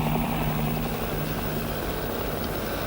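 Helicopters fly low over city outskirts during the final offensive of the Vietnam War, their steady, heavy rotor thump and engine drone filling the air continuously and loudly.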